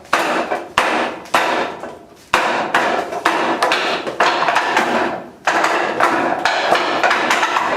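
Forearm strikes on a wooden Wing Chun training dummy during basic conditioning drills, sharp hard wooden knocks in irregular bursts, some single and some in quick clusters, close and loud with no talking.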